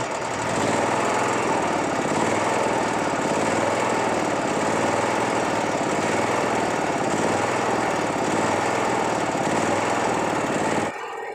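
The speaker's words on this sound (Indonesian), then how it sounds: "Oke, mesin sudah hidup" A generator set's engine runs continuously at a steady, loud, slightly rough drone, close by, then cuts off abruptly near the end.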